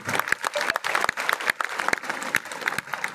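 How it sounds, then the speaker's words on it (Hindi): A gathered crowd at a company's fifth anniversary event claps for the managing director in a fairly close, uneven burst of applause with distinct individual claps standing out. "एक बार जोरदार तालियां बजाइए असीम सर के लिए।"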